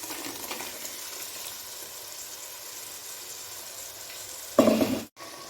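Potatoes sizzle steadily in a pan, and then a sharp burst of louder frying erupts as ground mint paste is poured in before the sound cuts off abruptly.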